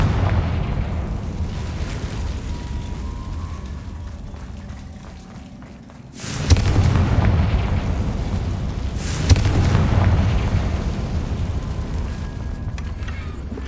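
Confringo blasting spells going off in the video game Hogwarts Legacy: two sharp, loud blasts a few seconds apart, each followed by a rumbling roar, over a steady background of game ambience.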